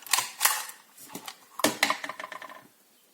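Cutting through material with quick, irregular snips and scrapes, several close crisp bursts in a row before trailing off into quiet.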